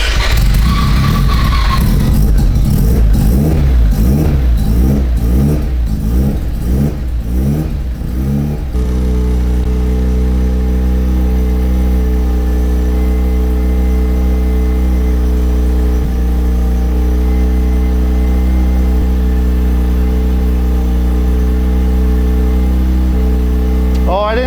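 Mazda RX-7 FC rotary engine after years in storage cranks in stuttering bursts, then catches and settles into a loud, steady, close idle that runs on for many seconds.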